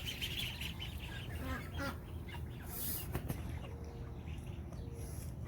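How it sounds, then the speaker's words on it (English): Young ducklings on a poultry farm give soft, scattered quacks and peeps over a steady background hum, with a few brief calls standing out at close range. "Well, the little ducks recovered."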